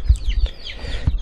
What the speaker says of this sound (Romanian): Puișor de găini de rasă pe care le cresc eu